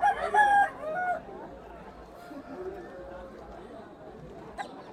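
At a Saturday country chicken market, a rooster gives one loud, close crow at the start, followed by murmuring voices and low market bustle.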